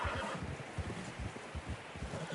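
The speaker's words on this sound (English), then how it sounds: "Horses are getting tired." Hoofbeats and horse noises from tired horses trudging through fresh snow on a narrow trail in the video game Red Dead Redemption 2, steady and close, with no talk over them.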